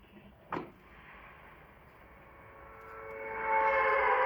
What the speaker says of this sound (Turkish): Bak şu tren sesi